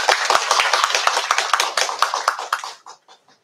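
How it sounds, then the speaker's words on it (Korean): Applause from an audience at a parents' information meeting at a Korean high school, dense clapping for about three seconds before thinning out into a few last claps. "나오실 때 박수 좀 부탁드립니다."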